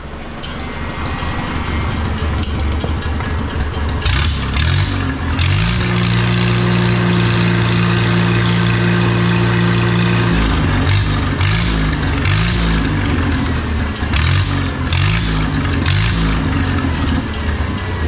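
An Oliver 66 tractor engine fitted with a new Marvel Schebler carburetor runs loud and close, with a steady low throb that rises into a sustained rev and then settles back into rhythmic pulsing idle.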